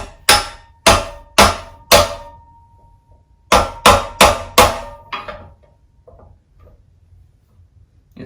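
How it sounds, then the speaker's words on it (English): Sharp metallic hammer blows ring out in two close bursts of about four strikes each during assembly of a Scotts Elite reel mower, then fade into faint handling noise. "It's really good to have a hammer,"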